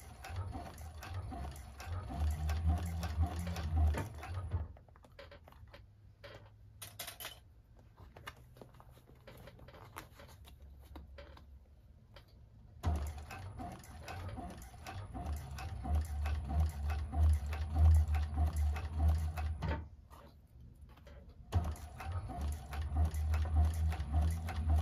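A heavy 1341 cylinder arm sewing machine runs in bursts while stitching a purse seam, its whirring motor and quick needle clatter stopping for several seconds between runs, loud and near.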